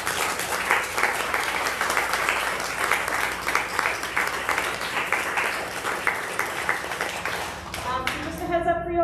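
An audience applauds the speakers at a talk and conversation event, a full, steady burst of clapping that holds for several seconds before dying away as a voice comes back in.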